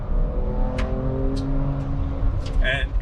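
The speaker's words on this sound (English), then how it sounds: "that is the guttural thunder that is the twin turbo V6 powering along in Baja mode." Twin-turbo V6 of a 2023 Ford Ranger Raptor in Baja mode on an off-road outback track: a deep, steady engine rumble heard from inside the cabin, with a voice speaking over it.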